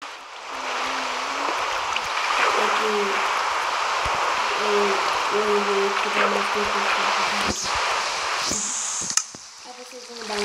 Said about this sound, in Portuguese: Aí, claro, vou botar água aqui, né?